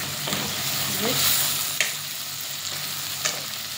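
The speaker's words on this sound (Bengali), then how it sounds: "তেলের মধ্যে ফ্রাই করে নিচ্ছি।" Potatoes, carrots and tomatoes fry in hot oil with a loud, steady sizzle, broken by a few scraping stirs from a utensil in the pan.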